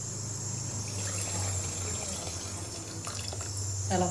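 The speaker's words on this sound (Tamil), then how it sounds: "புளி கரைச்சி அந்த செலவுக்குள்ளே ஊற்றி" Tamarind water, dissolved for a sundakkai kuzhambu, poured into a pan as a steady gushing, splashing stream that runs throughout at close range, with no one speaking.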